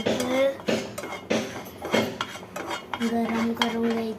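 A spoon scrapes and clinks against a hot pan as turmeric powder is stirred and dry-roasted until brownish, with steady close scraping strokes and faint sizzling throughout.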